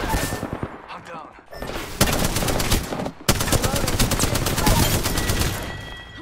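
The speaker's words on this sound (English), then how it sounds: "Getting shot at." Dense automatic gunfire rattles through a video game firefight, loud and nearly continuous with brief breaks, over faint background chatter.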